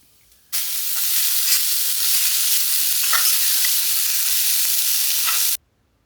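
Grated coconut, shallots and curry leaves fry in hot oil for a jackfruit masala curry, a loud, steady, close sizzle that bursts in abruptly, holds evenly for about five seconds, then cuts off.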